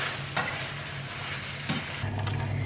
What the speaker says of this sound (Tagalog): Then, haluin lang natin mabuti.